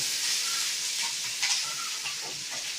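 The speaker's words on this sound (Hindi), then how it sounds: "देखिए इस तरह से अच्छी तरह से भूनिए इसे।" Eggplant bharta stir-frying in a pan over low heat, a continuous close sizzle with soft scraping stirs, no voices.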